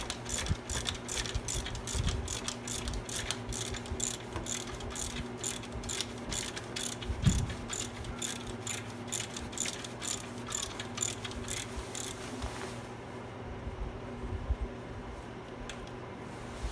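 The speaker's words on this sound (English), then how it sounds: "ratchet out" Rapid, steady clicking of a ratchet wrench working on a Jeep Wrangler JK engine during idler pulley and serpentine belt replacement, close and continuous for about twelve seconds before stopping, with no talk.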